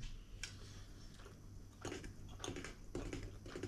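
Quiet crunchy bites and chewing of Mandelhörnchen almond cookies come as several short, crisp crackles close to the microphone, with no talking.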